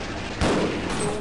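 Gunfire from a weapon in the video game Half-Life: a dense, loud burst of rapid shots erupts partway through over a constant noisy game background.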